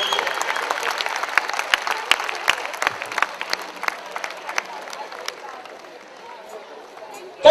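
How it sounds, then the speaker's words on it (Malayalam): An audience at a DRDO Onam celebration in CV Raman Nagar, Bangalore, applauds with dense, crisp clapping that gradually thins and fades toward the end. "കൈയടി പോരാ"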